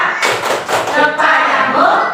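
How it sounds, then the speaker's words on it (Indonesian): Group doing the rhythmic 'tepuk salut' salute clap, a quick run of loud, close hand claps and slaps in a patterned rhythm with voices faintly mixed in. "kita kasih tepuk salut dulu untuk tepuk salut"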